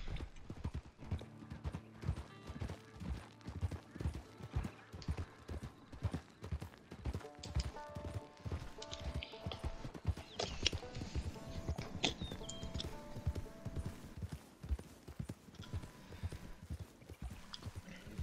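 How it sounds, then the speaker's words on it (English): Horse hooves clip-clop at a walking pace in the Red Dead Redemption 2 video game, a steady, close rhythm of hoofbeats that continues throughout, with a brief whinny or snort in the middle. "It's your horse"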